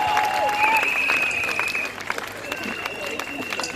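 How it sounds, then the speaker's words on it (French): Church congregation clapping in praise of Jesus, a sustained crowd applause with singing or vocal tones drifting over it, fairly loud and easing off partway through. "Acclamons pour Jésus."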